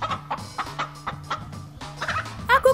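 A chicken in a forest setting clucks repeatedly in short, close bursts, growing a little louder and more agitated toward the end, with no talking.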